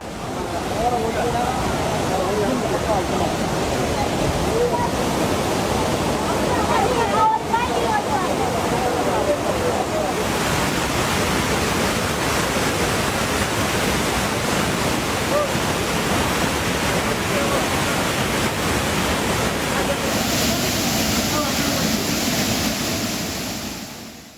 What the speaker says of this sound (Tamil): இரவு முழுவதும் மெயின் அருவி மற்றும் ஐந்தருவி வெள்ளப்பெருக்கோடு ஆக்ரோஷமாக காட்சியளித்ததால்